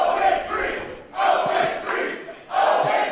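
Wrestling crowd at a student showcase chanting in rhythmic bursts at the 240-pound wrestler Dean Alexander, three loud swells of massed voices separated by brief dips.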